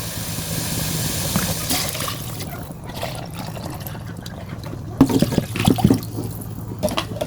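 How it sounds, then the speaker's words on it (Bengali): Water poured into a pot of rice and meat for mezbani biryani, a steady close gush and splash running for several seconds, with a few utensil knocks near the end. "আমি পরিমাণ মতো পানি দিয়ে দেবো"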